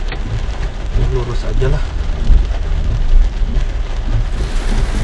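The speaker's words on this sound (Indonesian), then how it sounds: "lagi hujan ya, tiba-tiba hujan coy, tiba-tiba hujan begini ya." A sudden rain shower during a motorbike ride in Indonesia, heard as steady, loud hiss of rain with wind rumble close to the microphone, while someone speaks briefly under it.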